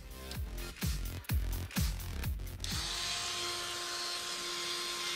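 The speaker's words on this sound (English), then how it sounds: "I'll do a little sanding" A power tool sands a C5 Corvette console part with a few short revving bursts, then settles into a steady, continuous whine, close and moderately loud.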